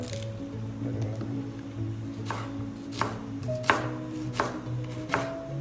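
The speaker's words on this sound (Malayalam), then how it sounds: "ഇനി നമ്മൾ ഈ സവാളയും കൂടി സവാളയും പച്ചമുളകും കൂടെ ഒന്ന് അരിയണം" A knife roughly chops onion and green chillies on a board. After a quiet start there are about five distinct, moist chops, spaced unevenly and heard close over a faint hum.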